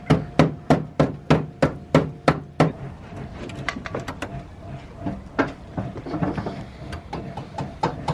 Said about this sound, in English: I'm just going to hit them with a hammer and start to kind of bend them up to the next bit of arch.